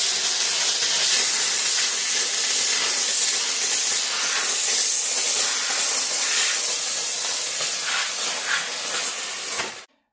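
Steady, loud hiss of steam from a SilverCrest hand-held steam cleaner runs without a break for about ten seconds before cutting off abruptly, with no talking.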